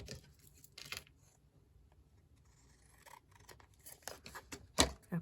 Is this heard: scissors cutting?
yes